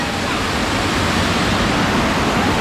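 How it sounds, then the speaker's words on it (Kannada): A close waterfall at Challangayam Kampam roars as a loud, steady wash of broadband rushing water that fills the whole span without any break. "ಒಳ್ಳೆ ಫಾಲ್ಸ್ ಇದು."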